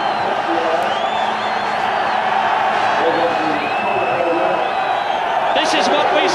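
At Silverstone in 1992, a large crowd cheers Nigel Mansell's win with a dense, continuous roar, whoops and scattered whistles that carry across a wide open space and stay steady throughout.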